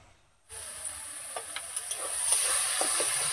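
Taro flowers stir-fried and dried in a pan, Sundarbans-style with prawns, giving a steady close sizzling hiss that starts abruptly and builds slightly, with occasional soft stirring scrapes.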